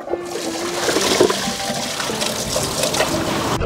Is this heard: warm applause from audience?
no